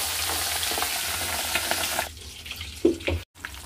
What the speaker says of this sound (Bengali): মাছটা দিতে না দিতেই মোটামুটি ফাটা শুরু হয়ে গেছে।